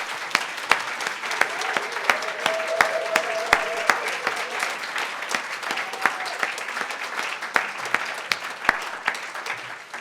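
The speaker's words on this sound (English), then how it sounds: "Big round of applause for all of the award winners tonight." Dense, sustained audience applause at an awards night, many hands clapping steadily for about ten seconds with a few sharp louder claps standing out and faint voices underneath.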